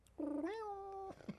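A cat gives a single drawn-out meow, rising slightly then holding steady for about a second, clear and fairly close in a quiet room.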